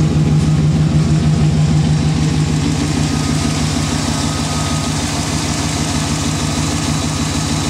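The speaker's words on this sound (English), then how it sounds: "With the engine running" A 1991 V2500 engine with an aftermarket radiator idles loudly and steadily up close at operating temperature, with a deep, even rumble and rhythmic pulsing throughout.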